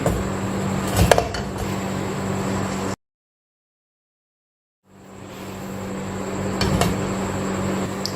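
A metal baking tray is set onto a wire stand inside a preheated kadhai lined with salt, giving a close clatter of metal on metal against a steady hum, then a gap of silence before the hum returns.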